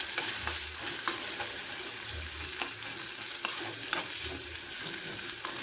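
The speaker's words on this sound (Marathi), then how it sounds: "छान तेलामध्ये परतून घ्यायचं." Peanuts fry in hot oil in a pan while a spoon stirs them for a fasting-day amti, a steady soft sizzle with occasional scraping knocks of the spoon, close and without talk.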